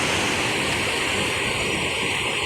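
The swollen Reshi Khola river in Nepal rushes after heavy rain, a loud, unbroken roar of fast water that stays close and steady without pause or voices.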